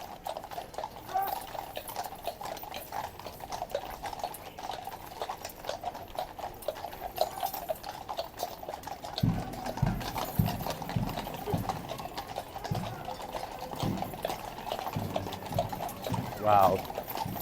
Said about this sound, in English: the horses are getting freaked this morning from the music